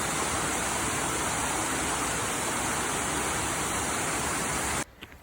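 Rainbow Falls running strongly, heard from the top as a dense, steady roar of rushing water that fills the clip and then cuts off abruptly near the end.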